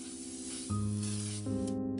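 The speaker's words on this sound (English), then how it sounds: "he had a couple of cans of spray paint" Spray can hissing steadily in a video game, a continuous close, loud spray with a shift in pitch partway through before it cuts off near the end.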